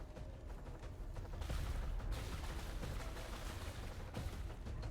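Gunfire from the strategy video game XCOM 2, with ballistic weapons only, fills the scene as a dense, continuous roar of overlapping shots and blasts, loud and unbroken throughout with no voices.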